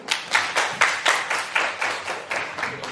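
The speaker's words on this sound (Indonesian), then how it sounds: "Tepuk tangan dulu" Participants in a teacher-training session clap hands together in a steady rhythmic beat, about a dozen even claps over a few seconds, close and clear with no talk.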